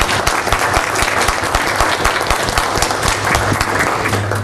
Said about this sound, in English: I think he deserves a round of applause for doing an excellent job.